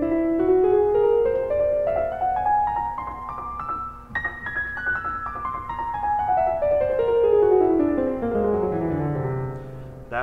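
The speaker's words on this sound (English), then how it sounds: "That is your whole tone scale," A whole tone scale is played in whole steps, climbing smoothly upward and then descending back down. The pitched notes sound continuous and fairly loud over a steady low drone, with no speech.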